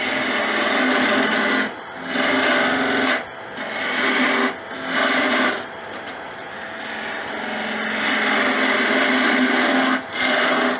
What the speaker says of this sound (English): Detail gouge.